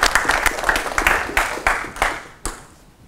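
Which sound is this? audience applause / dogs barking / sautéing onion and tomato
audience applause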